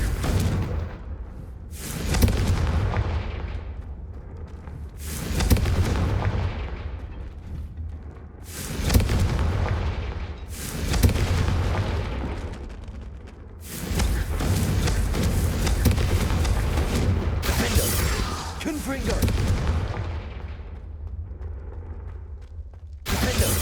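Blasting curse spells explode in the Hogwarts Legacy video game, a series of heavy booming blasts at intervals of a few seconds, each with a rushing decaying tail, loud and without speech.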